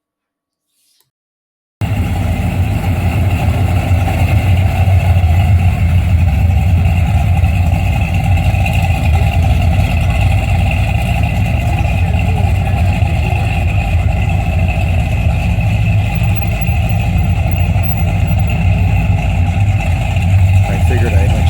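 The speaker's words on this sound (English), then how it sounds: "Figured I'd let you hear some of number 6, which is a 1973 AMC Hornet" A 1973 AMC Hornet car engine running at a cruise night in San Diego, California, starting abruptly after a brief silence and then holding a steady, loud idle rumble with a constant low hum.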